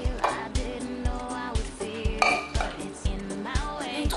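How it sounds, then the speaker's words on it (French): A wooden spoon stirs spätzle batter in a bowl, making rhythmic knocks and scrapes about twice a second, with occasional clinks, close and clear. "je vais le mélanger à l'aide d'une cuillère en bois"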